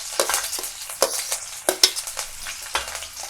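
Chopped vegetables and green chillies frying in hot oil in a kadhai, a steady crackling sizzle with sharp scraping stirs of a spatula every second or so, close and fairly loud, no voices.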